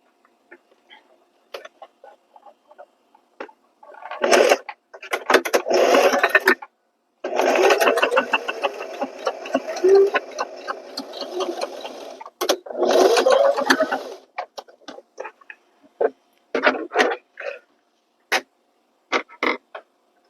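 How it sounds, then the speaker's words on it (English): A sewing machine stitches across denim scraps for a circle pouch, running in several loud bursts of fast, even clatter separated by pauses, with a few short ticks of the mechanism near the end and no talking. "So let's go ahead and sew across."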